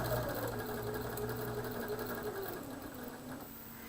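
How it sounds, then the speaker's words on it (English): A sewing machine stitching through quilt fabric hums steadily with a fast, even mechanical whir and faint rattle, close up and continuous, no speech. "here's where you'll see me sew directly through"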